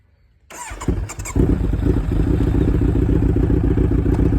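A superbike worth eleven lakh rupees starts up after a brief silence, then revs and settles into a loud, steady, close-up engine rumble with some clattering.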